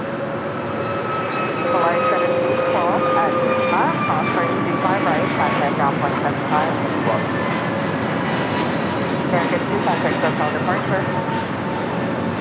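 An Airbus A321neo airliner at LAX gives a continuous engine roar with a high whine, rising a little after the first couple of seconds, while radio and voices talk over it.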